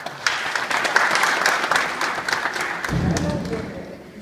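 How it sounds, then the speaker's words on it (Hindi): Students at a workshop are applauded by an audience: a crowd's brisk clapping fills the first few seconds, then thins out under a low thud and background murmur. "तो इन सबके लिए तालियां बजाएं।"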